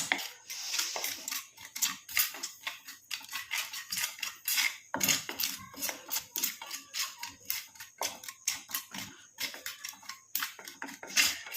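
Black cumin seeds dry-roast in a pan while being stirred. A spoon scrapes and clinks against the metal in quick, uneven strokes over the dry crackle of the seeds, close and clear, with no talking.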